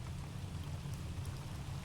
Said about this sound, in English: Let's get some rain sound while we're sitting here.